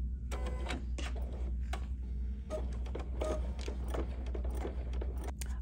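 An embroidery machine stitches a drawstring bag in rapid mechanical bursts of needle clatter over a constant low motor hum, close by and continuous with short uneven pauses.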